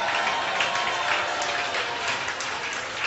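Audience applause welcoming two pastors in a Baptist church, a steady dense clapping from a large crowd that holds evenly at full volume throughout with no pause.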